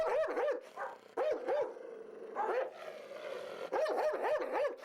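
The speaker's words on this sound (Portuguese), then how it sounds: "Mascote é um cão vira-lata" A mixed-breed mutt that guards a building-materials yard barks in quick repeated bursts, with several sharp yaps per burst and short gaps between them, close and prominent.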